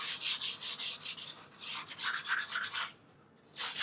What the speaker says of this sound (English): So only sanding a little bit of the surface of the coating.